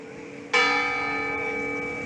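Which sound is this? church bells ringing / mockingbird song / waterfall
church bells ringing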